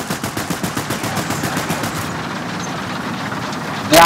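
Rapid automatic gunfire in a tank combat game, a fast rhythmic string of shots that fades into a rumbling engine drone, then a sudden loud cannon blast at the end.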